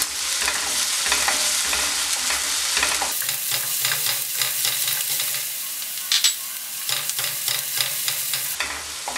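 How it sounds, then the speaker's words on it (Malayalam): Garlic, ginger and green chillies sauté in a pan for a chilli potato dish, a steady close sizzle broken by repeated scraping stirs and clinks of a spatula, with no talking. "ഇനി ഇതൊന്ന് നന്നായിട്ടൊന്ന് വഴറ്റി കൊടുക്കാം"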